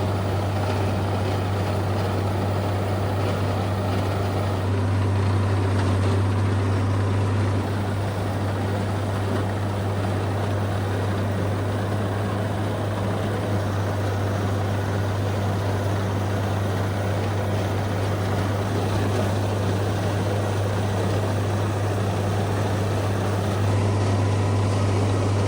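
A tractor mowing tall second-cutting hay in a field produces a steady, droning engine hum with a strong constant low tone, continuous and fairly loud for the whole stretch, with no talking.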